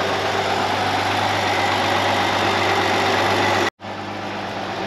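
Classic Holden car engine idling after years parked, a steady low exhaust note with a slight flutter, loud and close, cutting out briefly near the end before resuming.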